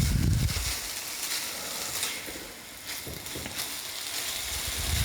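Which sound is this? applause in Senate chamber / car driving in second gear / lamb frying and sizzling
lamb frying and sizzling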